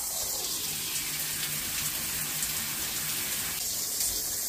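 Water runs steadily from a kitchen faucet with a sprayer, just after its cartridge was replaced and the handle refitted, a continuous close hiss with no talk over it.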